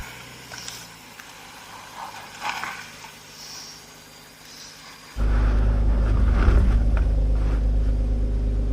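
A BMW crawls off-road with throttle held against the brakes; a quiet rumbling stretch gives way to a sudden, loud, steady low engine drone that holds to the end.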